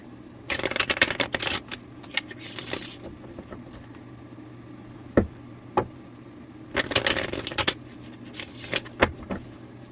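Tarot cards being shuffled up close, two riffling bursts of rapid papery flutter separated by scattered taps and soft handling noises.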